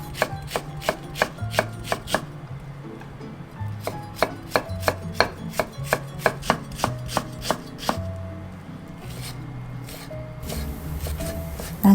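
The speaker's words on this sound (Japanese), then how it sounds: "長ネギ1/3本はみじん切りにします。" A knife finely minces a third of a Japanese long green onion on a cutting board in quick, crisp, evenly spaced taps, in several close runs separated by brief pauses, with no voices.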